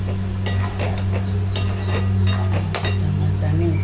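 A mixer grinder jar is rinsed and shaken in a kitchen, giving repeated metallic clinks and rattles over a steady low hum.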